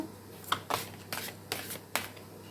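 Tarot cards are shuffled and flicked in short bursts, roughly five soft riffling snaps spaced under half a second apart, close and quiet with no talking.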